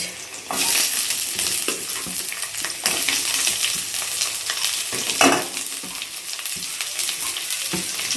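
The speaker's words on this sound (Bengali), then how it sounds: "পেঁয়াজটা একটুখানি ভাজা ভাজা হয়ে গেলে তারপরে টমেটোটা দিয়ে দেবো" Onion frying with garlic, ginger and cumin in a pan for matar paneer, a loud, continuous sizzle with bursts of stirring and spatula scrapes throughout.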